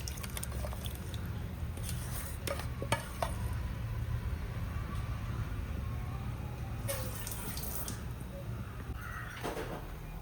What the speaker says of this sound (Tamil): ரசம் நல்லா கொதி வந்துடுது.